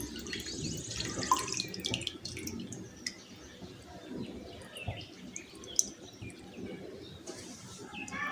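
Water trickles and drips steadily as it drains from homemade mozzarella cheese, with small splashes over a soft background; faint birdsong chirps now and then in the distance.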